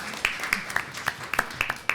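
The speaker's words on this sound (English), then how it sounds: "give yourselves a round of applause" A small audience at a harm reduction talk gives scattered, uneven claps, a handful of sharp separate hand-claps over a couple of seconds rather than a full ovation.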